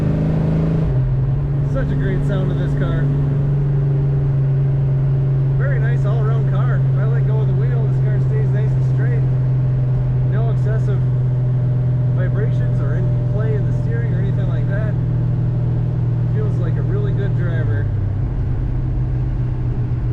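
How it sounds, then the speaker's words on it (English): A 1968 Dodge Charger R/T drives with a steady low engine drone throughout, a constant hum shifting slightly near the end, while someone talks over it at intervals. "Such a great sound of this car."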